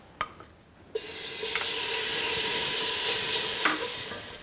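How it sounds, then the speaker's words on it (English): Diced bacon in its own grease bursts into a loud, continuous sizzle after a couple of soft taps, with occasional stirring scrapes heard through the steady frying. "Our bacon is cooked down."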